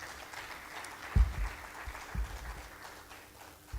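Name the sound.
applause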